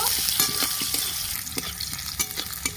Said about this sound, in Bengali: হালকা লাল করে ভেজে নেব